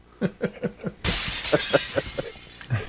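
A glass-shattering sound effect plays from a sound machine in a radio studio. It bursts in as one sudden, bright crash and then scatters into tinkling shards, after a few short, rhythmic tones.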